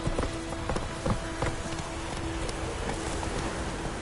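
The horse Roach from the video game The Witcher 3 galloping, rhythmic hoofbeats thudding in a fast repeating pattern over a wash of wind and ambient game sound.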